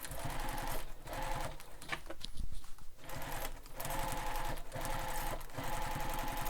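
A sewing machine stitches backpack fabric in a rapid, steady mechanical chatter up close, pausing briefly once and then resuming at the same even pace.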